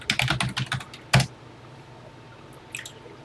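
Keys clatter on a Texas Instruments TI-99 computer keyboard, a quick burst of close keystrokes, then a single sharp press and a few faint taps after a pause.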